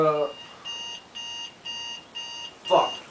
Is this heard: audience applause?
no